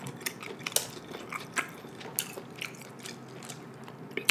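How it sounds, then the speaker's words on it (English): Close, crisp chewing of sausage and cucumber with rice, with irregular small crunches and soft wet mouth sounds over a few seconds, fairly quiet and with no talking. "I love that crunch."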